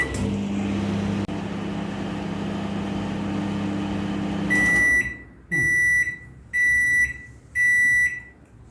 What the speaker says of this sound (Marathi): मायक्रोवेव्ह मोड हाय पॉवरवर आपल्याला करायचा आहे त्याच्यानंतर हाय पॉवर आणि आपण आता एक मिनिट देणार आहे एक मिनटं आणि मग स्टार्ट